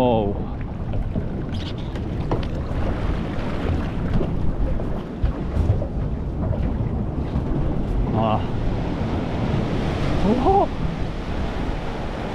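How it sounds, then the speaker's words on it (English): Large ocean waves break on a chilly morning, a continuous loud roar of surf mixed with heavy wind buffeting the microphone, with occasional brief voices over it. "those waves are huge and intimidating"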